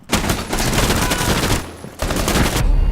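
Rainbow Six Siege gunfire, a player shooting through a wall, comes as loud, sustained automatic bursts. One long burst cuts out briefly, then a second burst rattles on to the end.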